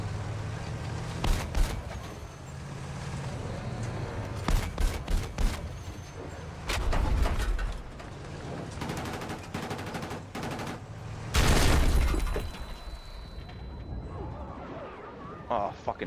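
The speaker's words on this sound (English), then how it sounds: "I think I drove over my own mines." A tank in Battlefield 6 rolls over its own mines, setting off heavy, booming explosions that burst loudly around seven and twelve seconds amid dense bursts of gunfire and rumbling battle noise, with voices faintly present.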